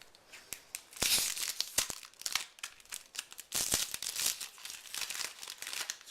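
Gatecrash booster pack wrapper crinkling and tearing open in bursts of bright, close crackling, with sharp rustles and short pauses between handlings.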